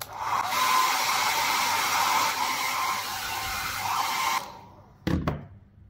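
Hair dryer or heat gun heating 3D-printed resin for a heat test, a loud steady blowing whoosh that cuts off, followed by a brief knock and rustle.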